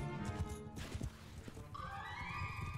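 A horse in the Mount & Blade 2 video game whinnies loudly with a long, wavering neigh, while hoof clops and battle noise rumble underneath.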